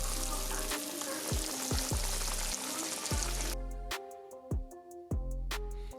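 Perch fillets frying in hot grease give a steady, close crackling sizzle, broken by several sharp pops and spatters; the hiss thins out partway through.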